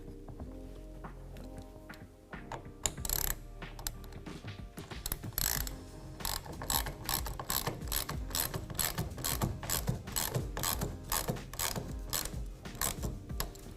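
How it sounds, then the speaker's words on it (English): A hand ratchet with a 1/2 inch socket tightens the front clamp of a TruXedo TruXport tonneau cover on a 2020 Ram 2500, giving a quick run of close, sharp clicking pawl strokes that picks up pace after a slower start, with no talking. "we can go ahead and tighten this down using a 1/2 inch"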